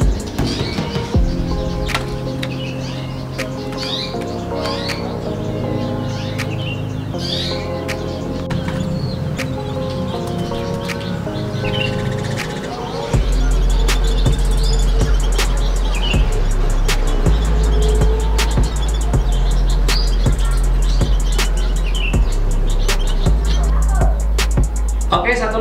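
Small breeding birds in an aviary chirp and tweet continuously, with many short calls layered over a steady background hum that grows louder midway.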